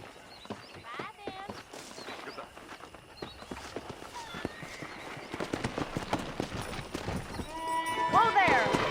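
Horses clip-clopping across ground in the Red Dead Redemption western video game, steady hoofbeats mixed with game ambience and a brief whinny near the end, with voices talking over it.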